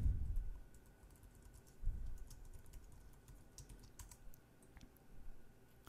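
Keystrokes on a computer keyboard as login credentials are entered, a soft, close patter of scattered taps spread across the clip over a quiet room hum, with no one speaking.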